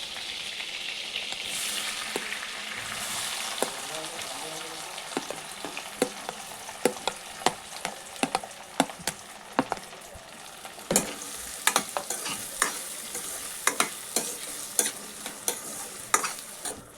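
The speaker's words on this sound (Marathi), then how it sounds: "पाच मिनिटं याला परतून घेणार आहे." Capsicum sautéing over a high flame in a pan for street-style pav bhaji, with a steady sizzle and frequent sharp spatula scrapes and clinks, close and loud, with no talking.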